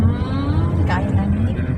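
A car engine drones steadily and loudly from inside the cabin during a driving lesson, a voice calling out over the constant rumble.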